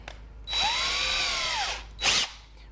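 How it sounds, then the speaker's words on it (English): A drill with a countersink bit bores a pilot hole into pallet wood for a smokehouse build, one steady whining burst of about a second and a half followed by a short second spin-up, close and loud. "we're going to take the countersink bit,"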